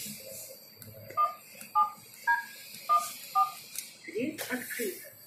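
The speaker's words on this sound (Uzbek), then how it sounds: "domga kirish uchun kod teriladi" An entry code is keyed on a door keypad at a modern multistorey apartment building: six short, evenly spaced beeps at close range, followed by a brief murmur of voices.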